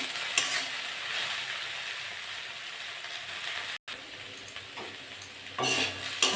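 Okra and potatoes with turmeric and salt being stirred and fried in a pan: a continuous close sizzle with occasional scraping strokes of the spatula, one brief dropout, and a louder stir near the end.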